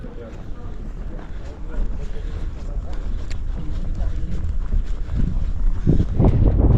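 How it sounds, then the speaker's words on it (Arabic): Strong mountain wind in Morocco roars and buffets the microphone, growing louder toward the end with heavy low gusts. "ولا واحد الريح مجهد"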